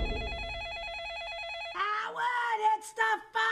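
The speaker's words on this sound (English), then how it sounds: "I know it's the phone, Ma. I hear the phone." A telephone bell rings in a steady warbling trill, then gives way to a person talking.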